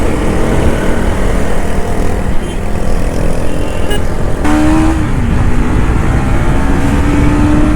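KTM Duke 250 motorcycle exhaust running loud and steady throughout, a continuous engine drone with a rising whine of revs in the middle and later stretches, close by with no talking.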